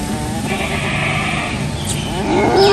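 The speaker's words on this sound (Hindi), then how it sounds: "ये वाली काफ़ी कमज़ोर बकरी थी" A weak nanny goat on a farm during kidding season bleats loudly and close, one drawn-out wavering cry that rises in pitch near the end, with some faint background noise.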